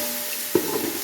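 Garlic sautéing in hot oil for a Keeranur-style mutton biryani, a soft continuous sizzle with one brief clink of a spoon against the pan partway through.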